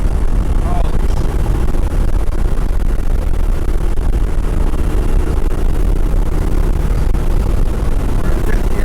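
A 1976 Alfa Romeo Alfetta GT accelerates hard onto a freeway, its engine a loud, continuous low roar mixed with wind and road rumble from inside the cabin.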